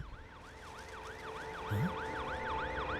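An ambulance siren in a film scene wails in a steady repeating up-and-down cycle, clear and sustained over low traffic rumble, with a brief low engine tone partway through.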